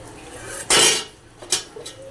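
A metal lid clatters down onto a cooking pot with one loud, bright clang, then two lighter rattling taps as it settles, in a quiet kitchen while brinjal fries nearby.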